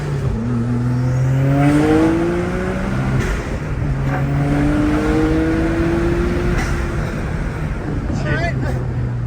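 A BMW 135i engine revs hard and climbs through rising gears, loud and close, with a sustained roar and people talking over it.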